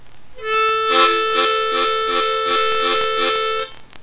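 A blues harmonica played with tongue-block embouchure holds a steady reedy chord while a rhythmic pulsing bass from tongue slaps repeats about eight times beneath it.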